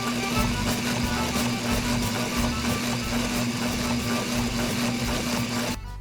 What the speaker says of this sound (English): you take 2 pieces of vinyl, put the plastic cord in between, and you sew them together